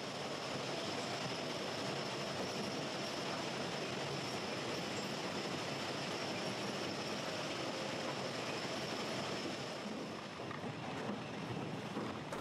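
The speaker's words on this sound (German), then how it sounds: "Übereinander liegende Fließbänder transportieren gleichzeitig die Betonschwellen." Conveyor belts on a track renewal train carry concrete railway sleepers, making a loud, steady broadband rumble and rattle that runs unbroken for the whole stretch, with no voices.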